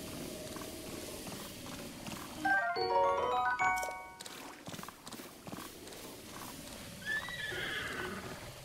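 Horse whinnying and hooves from The Legend of Zelda: Breath of the Wild, with a clear, loud neigh in the middle over steady clip-clop hoofbeats and game music.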